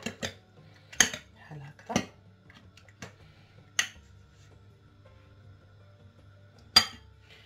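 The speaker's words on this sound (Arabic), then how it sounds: "هنا غادي نجيب فرشيطة اولا شي طراب اللي غادي نطرب" Eggs are beaten with a fork in a bowl, heard as a handful of sharp, separate clinks and taps spaced a second or so apart over a quiet background, close and fairly loud.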